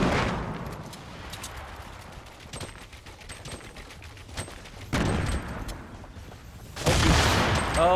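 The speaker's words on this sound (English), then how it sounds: "Threw a nade." Grenade blasts in Fortnite: a broad burst of noise lands around five seconds and another, louder, near seven, over a steady low rumble of game action with scattered sharp clicks and shots.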